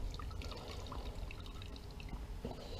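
A wet cleaning cloth used to wash an electric bike is squeezed hard, letting water pour and drip out in a soft, steady trickle heard close up.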